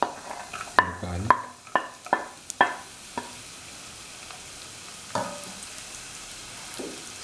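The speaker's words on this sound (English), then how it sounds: "Put in the onion pieces, the garlic," Onion pieces and garlic drop into a pan and begin frying, with several sharp clinks and taps from a spoon against the pan over a soft, low sizzle.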